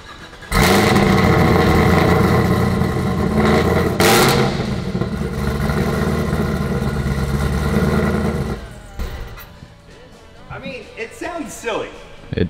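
A Corvette C8 engine fires up with a sudden loud burst, settles into a deep, steady idle with a brief blip of revs, then fades as people talk.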